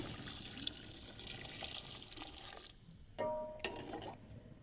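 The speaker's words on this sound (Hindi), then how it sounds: "ये 1 लीटर पानी है यखनी।" Yakhni stock is poured into a pot of beef keema pulao, a faint splashing trickle of liquid that shifts in tone partway through, heard close with no talking.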